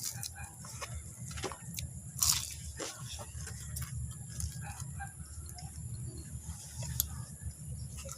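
Crunchy ngohiong eaten with pancit canton gives close, quiet bites and chewing crackles, with one louder crunch partway through, over a soft background hum.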